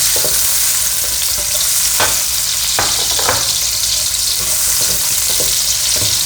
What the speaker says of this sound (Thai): ผัดแบบไม่ต้องให้ไหม้นะคะมันจะขมค่ะ